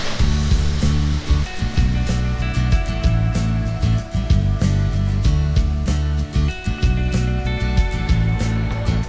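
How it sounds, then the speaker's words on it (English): Quimixto waterfall near Puerto Vallarta, a loud, steady broadband rush of falling water with rhythmic low thumps, close by and continuous, no voices. "And here we are at the Quimixto waterfall."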